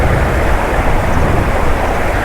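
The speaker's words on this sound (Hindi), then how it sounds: "इतनी तेज़ हवा है कि कैमरे को पीछे रखना पड़ रहा है" Strong wind gusting by the Ganges riverside in Rishikesh, a loud, constant roar buffeting the microphone with no break.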